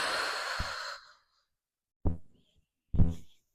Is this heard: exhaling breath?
yes